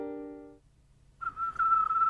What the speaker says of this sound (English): you found the whistle. That's it. Give it a blow.